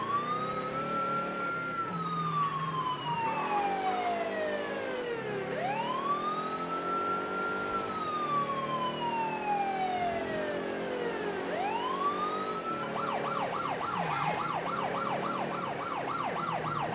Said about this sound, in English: I'm going to turn on the sirens